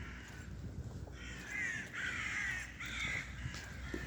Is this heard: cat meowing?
no